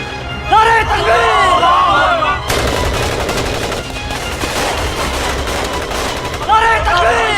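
Gunfire in a movie battle scene about the Kashmir conflict, with loud bursts of shots and explosive crackle under shouting voices that rise and fall throughout.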